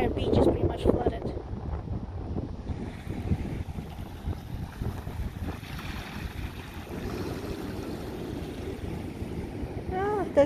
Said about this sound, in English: It is very, very windy and very stormy.